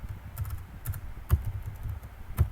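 A computer keyboard is typed on in short, close taps, a handful of soft clicks spread unevenly across a brief quiet stretch with no talk.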